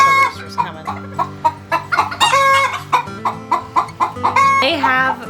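Backyard hens cluck and squawk repeatedly at close range around a soil blocking station on a Florida homestead, with a rooster's crow rising near the end; a voice is heard under the birds.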